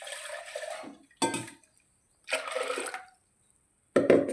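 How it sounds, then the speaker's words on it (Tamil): Water is poured into a pressure cooker holding a thin ground mixture, in several short bursts of splashing and trickling with pauses of silence between them. "இன்னும் கொஞ்சம் தண்ணி ஆட் பண்ணிக்கலாம்."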